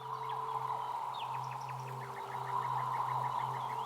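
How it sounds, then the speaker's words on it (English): Real swamp bird calls, heavily processed with effects, a run of rapid repeated chirps and whistles over a dense droning hum, continuous and evenly loud throughout. "the swamp birds, they are real bird sounds, heavily affected"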